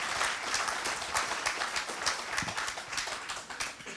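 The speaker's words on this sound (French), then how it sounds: "Thibaut Soultier sous vos applaudissements" Audience applause at a French conference on history and comic books, dense steady clapping from a crowd throughout, fairly close and full, with no talk over it.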